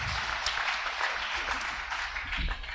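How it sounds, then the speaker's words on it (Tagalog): A church audience applauds in a dense, steady wash of clapping that holds evenly throughout, with no voices rising above it. "Sige, palakpak para sa grabing Diyos."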